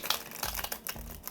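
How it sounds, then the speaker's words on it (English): A Lost Hollow tarot card deck being shuffled, with several quick papery riffles and crinkly card flicks close to the microphone and no talking. "This is really easy to shuffle"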